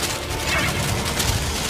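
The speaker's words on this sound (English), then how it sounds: "They're all paper bombs. I have amassed 600 billion paper bombs just to make sure that I kill you. And they'll continue to explode for 10 minutes." Paper bombs in a Naruto anime battle explode in a dense, continuous roar of blasts and crackling debris, loud and unbroken throughout.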